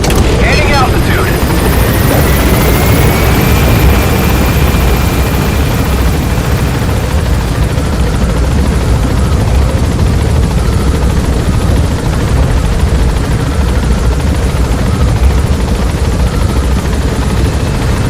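A helicopter in the Metal Gear Solid V video game lifts off and flies away from Mother Base, its loud rotor roar steady throughout, with a rising whine early on as it gains altitude.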